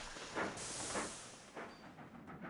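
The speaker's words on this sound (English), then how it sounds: "It's a 440 American, which were the mainstay trains back then." A 4-4-0 American steam locomotive in the rail video game Sid Meier's Railroads chuffs with rhythmic bursts of steam hiss over a soft rolling rumble, faint and brief.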